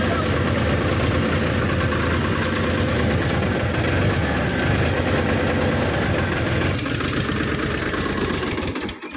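A tractor engine running under strain, overheated and losing pressure and power, a loud steady close diesel drone with a rough knocking throb that falters at the very end.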